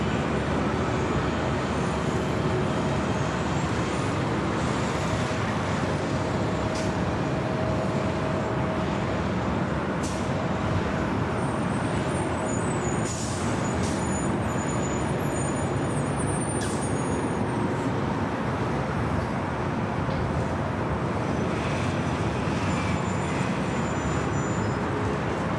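A Boeing 757-300 jet roars steadily down runway 24 left at LAX, a broad continuous rumble holding loud and even throughout with faint higher whines above it.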